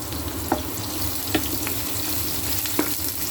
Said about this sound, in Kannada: ಎಣ್ಣೆ ಕಾದ್ಮೇಲೆ ಸ್ವಲ್ಪ ಜೀರಿಗೆ ಹಾಕ್ರಿ, ಒಂದು ಸ್ವಲ್ಪ ಸಾಸಿವೆ